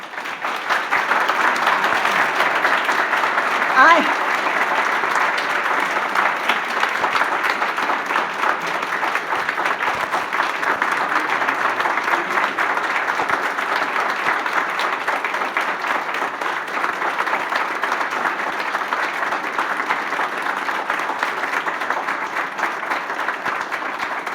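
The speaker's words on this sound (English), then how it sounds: "I was going to let you applaud later, but that's how it goes" Sustained applause from a luncheon audience for an award recipient, dense and even, many hands clapping steadily for over twenty seconds with no talk over it.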